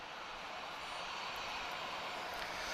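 A Ryanair Boeing 737 airliner at Lisbon Airport on a calm day produces a steady, even jet roar that holds at a constant level for the whole stretch, with no voices.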